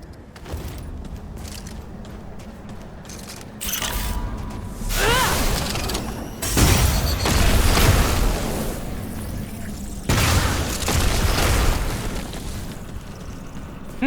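The Annihilation weapon firing in a video game: several loud, booming bursts with mechanical clanks, separated by quieter gaps, some bursts lasting a couple of seconds.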